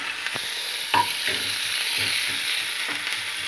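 Ham is stirred in a sizzling frying pan for a homemade omelette, a continuous sizzle broken by a few scraping knocks of the utensil against the pan, close and clear.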